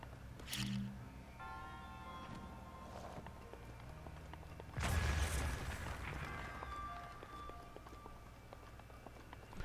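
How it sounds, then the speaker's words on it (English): A remote bomb detonating in Zelda: Breath of the Wild, one loud, broad blast midway that fades into a lingering rumble, after quieter in-game clatter and effects. "And then you press left trigger or left shoulder button again to detonate the bomb."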